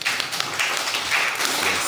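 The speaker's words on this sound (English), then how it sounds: "the panelists deserve a round of applause" Audience applause for conference panelists at a national adaptation plans session, a steady broadband wash of many hands clapping together for about two seconds with no voices.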